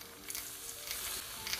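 Eggplant pieces fry in hot oil in a pan, a soft, steady sizzle with light crackles and spits throughout, fairly quiet and with no talking.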